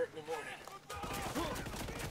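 Gunfire in the tactical shooter Ghost Recon Wildlands, a burst of dense, rapid shots that kicks in abruptly about a second in and keeps rattling to the end, loud and close, after a quieter stretch.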